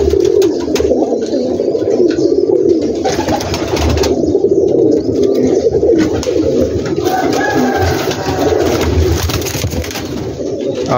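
Dense, continuous cooing of many pigeons in a large rooftop loft, overlapping throaty murmurs close and loud, with occasional flutters and chirps and no talk.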